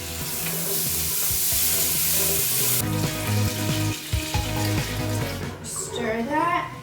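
Tomato goes into toasted rice in a hot pan, giving a loud sizzle with stirring scrapes. The hiss drops after the addition, and a voice speaks briefly near the end.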